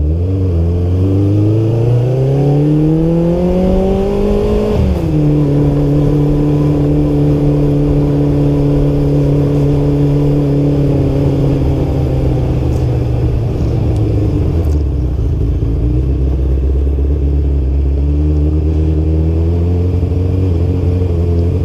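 Kawasaki Ninja GPX600 motorcycle engine heard close while riding, a loud steady drone that climbs, settles, then drops to a lower hum, with no talk.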